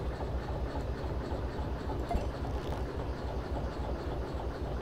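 A derailed train is set back onto its track in the railway simulator Derail Valley, giving a steady low rumble of rolling stock and machinery that carries on evenly throughout, with no talk.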